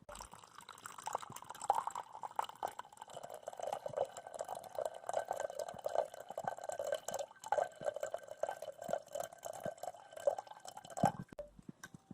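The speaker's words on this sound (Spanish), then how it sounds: "El segundo paso consiste en agregar agua." Water trickles and drips into a glass container holding lime, a faint continuous pouring with scattered small splashes and drips, quiet and close, with no talk over it.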